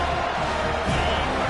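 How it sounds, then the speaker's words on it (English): Stadium crowd at a college football rivalry game, a steady, dense roar filling the whole clip without clear peaks, as if heard from the broadcast booth. "This crowd, full throat, spreading the eardrums and letting them know it's going to be a long day"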